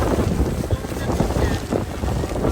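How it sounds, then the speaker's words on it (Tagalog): Strong wind at Ba Na Hills in Da Nang, Vietnam buffets the microphone in a steady, heavy rush of low roaring noise. "Grabe ang lakas ng hangin."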